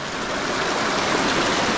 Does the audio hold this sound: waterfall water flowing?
yes